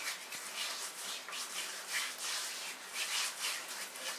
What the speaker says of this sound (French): on va gommer nos pieds comme ça pour les rendre doux